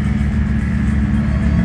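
Rally car engine running in parc fermé, a close, loud, steady idle rumble with a throbbing low drone and no voices.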